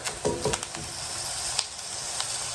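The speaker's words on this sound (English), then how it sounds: "So I'm going to go ahead and add the butter." Butter melts in a hot pan with grilled onions, giving a loud, continuous sizzle. A few crackling pops come through near the start.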